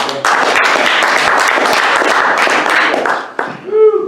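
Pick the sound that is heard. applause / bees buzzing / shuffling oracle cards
applause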